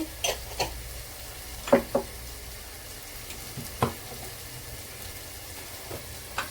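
Ginger garlic paste and turmeric frying in a pan, with a low continuous sizzle broken by a few sharp crackles and spits, heard close up and alone.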